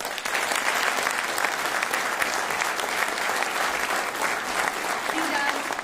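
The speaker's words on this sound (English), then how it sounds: "Would you mind giving him a round of applause?" A large audience at a University of Louisville event applauds Dr. Gary Gregg, giving steady, dense clapping that holds at full strength for about six seconds, close and loud throughout.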